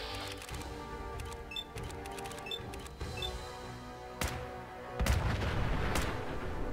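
Gunfire in the video game Fallout 4, a run of sharp shots and several heavier booms spaced unevenly, moderately loud amid game background sound.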